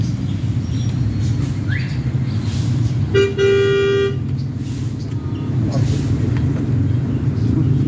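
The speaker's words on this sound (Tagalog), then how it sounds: "Ang hina ng busina dito." A single steady car horn blares for about a second over rumbling engine and traffic noise, with voices faintly in the mix.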